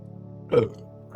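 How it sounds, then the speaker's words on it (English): A single loud, close burp from someone who has just drunk an energy drink, rising abruptly out of a quiet room and fading within a fraction of a second. "Oh, excuse me, I burped."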